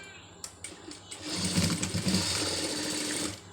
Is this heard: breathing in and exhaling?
no